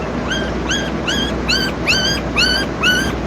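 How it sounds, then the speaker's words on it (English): Several puppies yelp and whimper in a steady series of high, rising cries, about seven in a row, sitting somewhat back in the mix over a low background hum. "Because I have puppies yelling in the background or what?"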